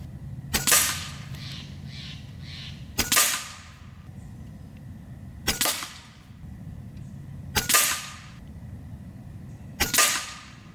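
A Stoeger XM1 BullShark 27-inch bullpup PCP air rifle fires five sharp, close cracks evenly spaced about two seconds apart, each followed by a brief ring-out over quiet room tone.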